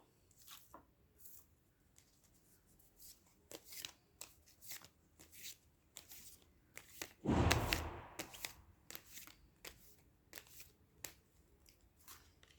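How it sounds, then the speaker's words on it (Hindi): Tarot deck shuffled by hand, a quiet run of papery card flicks and riffles with one louder burst of shuffling in the middle. "I'll just shuffle it once again."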